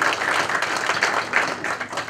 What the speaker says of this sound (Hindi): एक बार जोरदार तालियां हो जाए उनके लिए।